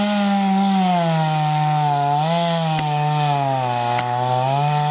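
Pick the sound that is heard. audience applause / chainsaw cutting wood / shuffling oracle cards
chainsaw cutting wood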